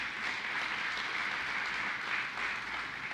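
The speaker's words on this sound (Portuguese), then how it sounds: "Dá um aplauso aí, mais uma vez aí." Church congregation applauding during a sermon, a soft, even wash of distant clapping with no voices over it.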